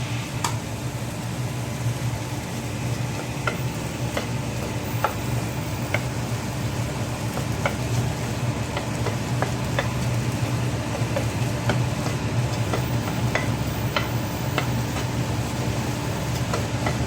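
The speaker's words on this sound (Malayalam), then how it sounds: "മിക്സ് ചെയ്യാം." Sandwich filling with turmeric stirred in a pan, a steady loud sizzle with scattered scraping clicks of the spoon running throughout, no talking.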